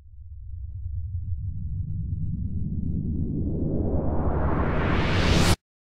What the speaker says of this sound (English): A whoosh is some white noise for which we progressively let high frequency pass with